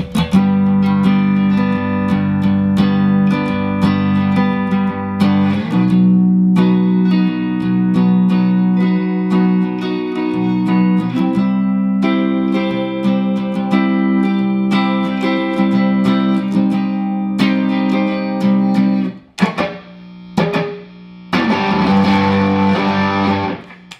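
Heavily distorted electric guitar through a distortion pedal plays sustained, crunchy chords and riffs from a song continuously, loud and close, with a brief choppy break near the end.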